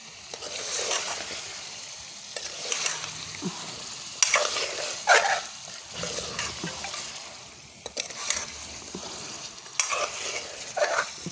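Potatoes frying and being stirred for aloo pakoras, a continuous sizzle with repeated scraping stirs and occasional clanks of a utensil against the pan.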